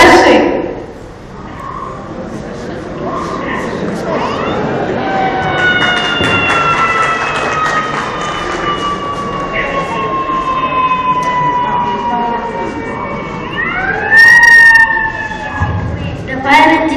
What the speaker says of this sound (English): The fire engine is coming.